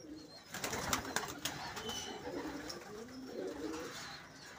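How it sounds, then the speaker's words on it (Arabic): Pigeons and squabs in a wire-mesh rooftop loft coo continuously in a dense, overlapping chorus, with wing flutters and brief rustles mixed in, close and moderately loud. "ادي الحمام اهو، بص الزغاليل شكلها عامل ازاي."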